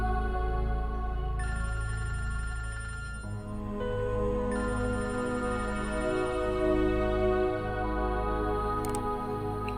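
A telephone rings steadily with a continuous electronic ringtone, a loud layered tone that holds for several seconds with slight shifts in pitch and no talking over it.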